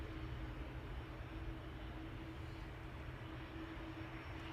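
An airliner sitting on the ground at Manchester Airport after pushback, giving off a steady, even engine rumble and hiss with a faint whine, distant and unbroken with no speech.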